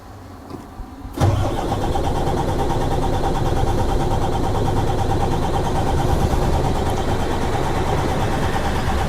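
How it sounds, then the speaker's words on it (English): A truck engine turns over and catches after a brief quiet moment, then settles into a loud, steady idle that runs on without a break. "I press the engine start button"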